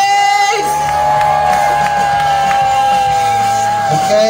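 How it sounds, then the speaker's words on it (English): A live crowd at a show in Truro roars and whoops in one loud, sustained cheer that holds steady for several seconds, with a piercing whistle running through it. "can I have another huge cheer, please?"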